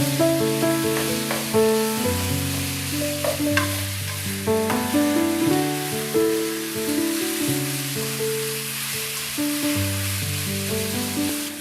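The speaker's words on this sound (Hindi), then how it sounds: "2 से 3 मिनट तक के लिए लहसुन अदरक के पेस्ट के साथ आप फ्राई करें चिकन को।" Chicken sizzles and crackles as it fries in a pan with garlic-ginger paste, stirred now and then, while music plays over it.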